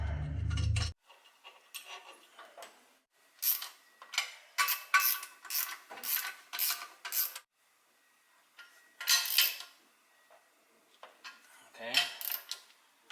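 Ratchet clicking in short bursts as nuts are tightened onto supercharger bracket studs on a 1993-95 Ford Lightning, several separate close metallic ratcheting runs with pauses between them.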